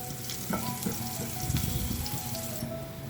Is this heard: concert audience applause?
no